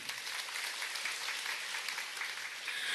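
Steady applause from an audience at a marketing-plan seminar, dense and continuous for the whole span at even loudness, with no talk over it.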